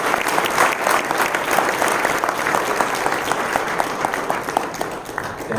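A conference crowd claps for the event host in a sustained round of applause lasting several seconds, dense and steady, then thinning slightly toward the end.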